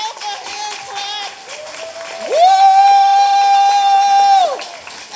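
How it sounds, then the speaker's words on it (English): Graduates at a counselor education graduation ceremony clap and cheer together in a steady crowd roar, and a loud sustained whoop rises over the applause partway through. "give yourself a hand clap"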